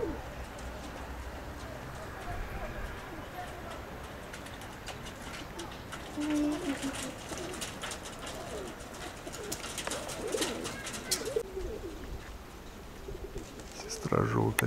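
Domestic pigeons cooing outdoors amid a busy background of bird chirps and rustle, soft low coos heard intermittently under faint voices.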